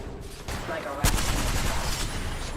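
Rapid gunfire from smart bullets in the video game Apex Legends: a dense, continuous burst of close shots with a sharp crack near the start, under game voice lines.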